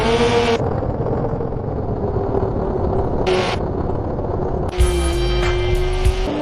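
A Lamborghini engine in a vehicle simulation video game drones steadily throughout at moderate level, broken by brief bursts of higher-pitched noise and a louder surge near the end.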